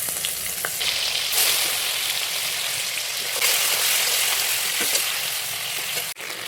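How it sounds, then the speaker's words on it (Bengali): Prawns frying in oil left over from frying onions, a loud, close, continuous sizzle with bursts of crackling as the pieces are stirred, ending in a brief clatter. "এরপরে আমি চিংড়ি মাছটা ভেজে নেব ওই একই তেলে"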